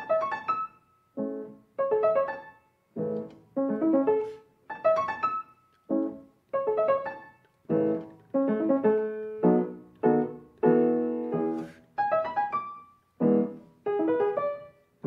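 Piano notes and chords from Beethoven's Piano Sonata No. 2 Scherzo come in short, separated bursts with brief gaps between them, a choppy phrase played alone.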